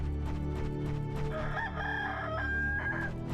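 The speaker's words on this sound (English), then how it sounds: "Oh, they're roosters." Several roosters crow in overlapping cock-a-doodle-doos over a steady, dense backdrop of game music and ambience in the video game Star Ocean: Till The End Of Time, loud and continuous throughout.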